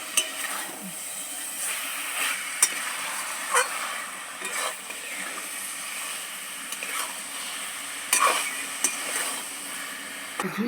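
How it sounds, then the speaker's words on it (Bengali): A spatula stirs and scrapes through vegetarian banana flower curry with ghee and garam masala in a pan, giving close, intermittent scraping strokes over a soft, steady sizzle. "গরম মশলার গুঁড়ো এখন ভালো করে মিশিয়ে নেব"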